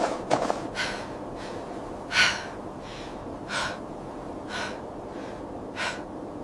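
A woman breathing heavily after a fight, rendered as a run of sharp gasps and breathy exhales spaced roughly a second apart, close and moderately loud over a low ambient bed.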